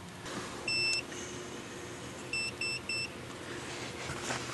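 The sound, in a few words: multimeter continuity test beep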